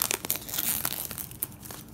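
Close crinkling and tearing of the plastic wrap on a Doctor Who Series 8 steelbook comes in quick, uneven bursts of rustling, with no talk.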